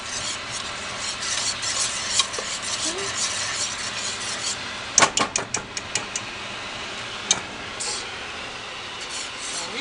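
Steady scraping and rubbing of a utensil stirring a blonde roux in a pot for a large batch of mac and cheese, soft and continuous with a faint sizzle and a few sharp knocks against the pot.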